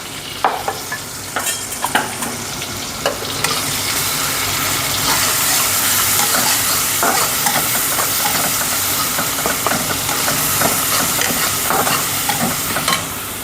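Green chilies fry in hot oil in a home kitchen pan, giving a loud, steady sizzle with repeated clinks and scrapes of a spoon stirring throughout, no voices.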